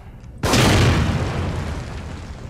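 A sudden loud explosion in The Evil Within booms after a brief quiet moment, followed by a long rumbling decay.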